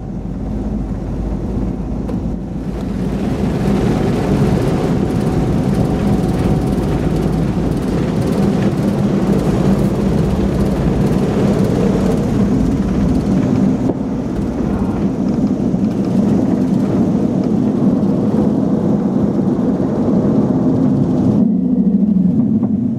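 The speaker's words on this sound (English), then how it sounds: "let's enjoy the takeoff from the nose of the jumbo jet" Steady, loud jet engine roar with low rumble, heard from the nose of a Lufthansa Boeing 747-8 cabin as it accelerates for takeoff, fading abruptly near the end.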